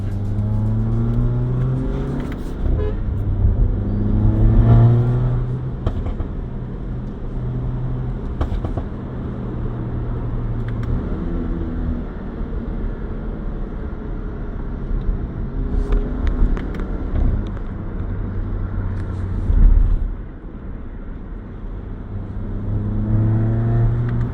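A modified Skoda VRS 230 with a Stage 2 tune drones with a steady, loud engine note that swells and eases as it accelerates, with no voices over it.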